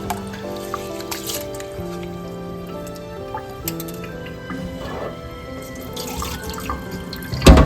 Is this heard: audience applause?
no